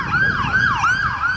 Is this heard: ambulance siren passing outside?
yes